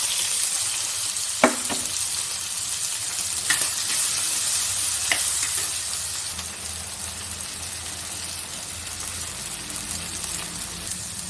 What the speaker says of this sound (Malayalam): വെളിച്ചെണ്ണ ചൂടായിട്ടുണ്ട്. കറിവേപ്പില ഇട്ട് കൊടുക്കാം. പച്ചമുളക്, വെളുത്തുള്ളി,